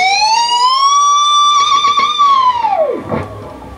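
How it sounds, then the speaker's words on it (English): An electric guitar note bends upward, wavers with vibrato, then plunges steeply down in pitch via a whammy-bar dive bomb into a low growl, loud and alone. "push the bar down a little bit, bring it past the note, vibrato it, and then dive bomb it"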